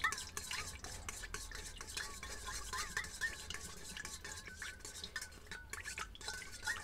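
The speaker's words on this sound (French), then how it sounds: "On va mélanger un petit peu pour que ça fonde" A coconut carp pellet mix stirred into hot water makes a faint, continuous wet scraping and swishing, with a few light clicks against the bowl, and no voices.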